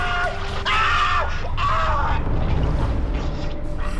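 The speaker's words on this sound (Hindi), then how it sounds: "उसकी चीख रात के सन्नाटे में गूंज उठी" A shrill scream echoes through the silence of night in a Hindi horror story, rising in a few wailing bursts over a heavy, rumbling dramatic sound bed.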